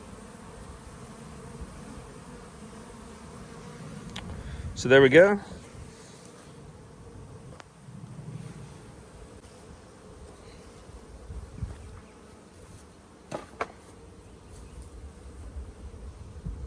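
Honeybees of the field force fly in and out of a hive in an apiary during a late afternoon, their steady faint buzzing running throughout, with one louder close pass as a bee flies near, and a person speaking briefly.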